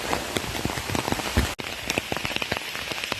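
Heavy, dense rain pours steadily onto leaves and ground in a forest, a continuous close patter of countless drops with no voices.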